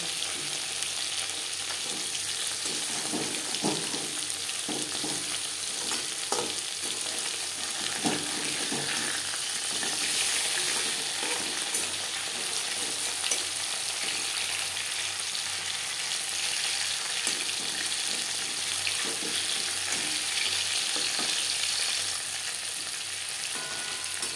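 Fish sizzles steadily in hot oil in a pan while cooking for a mustard fish curry, a continuous close hiss with scattered crackles and pops for the whole stretch.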